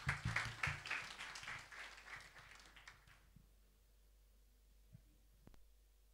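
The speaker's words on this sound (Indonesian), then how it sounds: "kita beri tepuk tangan yang paling meriah." A church congregation at a Christmas service applauds warmly, the clapping loud at first and then fading to quiet within a few seconds, with a faint hum left behind.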